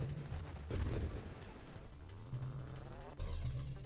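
Grenade bombs burst in the space shooter Nova Drift, a run of booming explosions and crackling blasts over a low synth drone, faint and game-mixed, with a few pauses between bursts.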